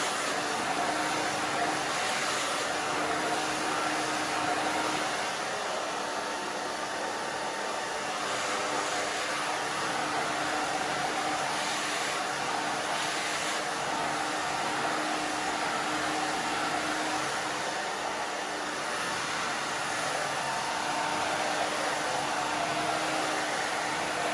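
A hair dryer blows steadily and loudly while someone dries hair after a short bob haircut, a constant whooshing drone with a faint motor whine that barely shifts for the whole stretch.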